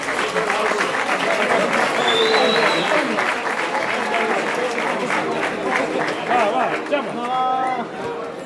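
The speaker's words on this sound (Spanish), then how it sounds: "vamos a darle un fuerte aplauso ya para que comiencen" Audience applause at a Galician comparsa carnival event, a dense steady clapping wash with crowd voices, cheers and chatter mixed through it, continuous for the whole stretch.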